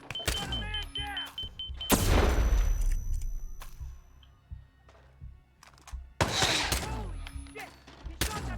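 Gunshots in the Hitman 2 video game, several sharp loud bursts of gunfire with heavy booming impacts, separated by quieter stretches of ambient noise and small mechanical sounds.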